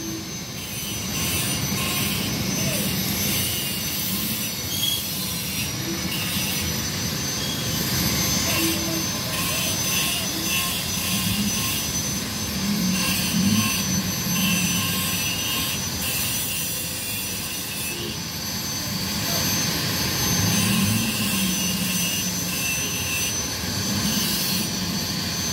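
Honda Beat scooter engine revving hard through a newly fitted muffler, a loud, continuous roaring drone that swells and eases slightly throughout.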